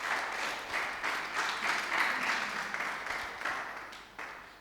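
A church congregation claps loudly together, a dense and steady wash of applause that carries on for several seconds.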